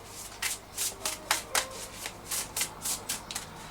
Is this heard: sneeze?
no